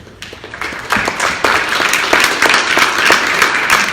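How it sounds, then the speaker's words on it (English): Audience applause at a county commissioner candidate forum: a short burst of many hands clapping indoors that swells quickly and stays fairly loud without speech over it. "We're going to save our applause for when the candidates wrap it up"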